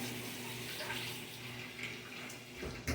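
Tap water runs steadily into a kitchen sink while hands are washed during cooking, a soft continuous splashing with a low hum underneath and a brief clunk at the end.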